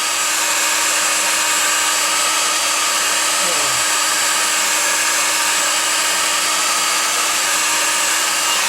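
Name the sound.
heat gun blowing to dry glue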